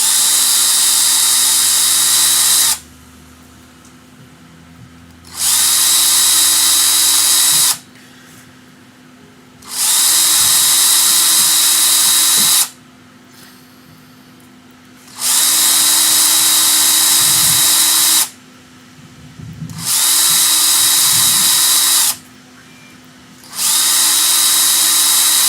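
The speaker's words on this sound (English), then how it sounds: "We're just drilling the holes out for the motor C-clip." A power drill whines in repeated bursts while drilling holes in a metal frame for a motor C-clip, about six loud, steady runs separated by short pauses, close and harsh with some clunks between.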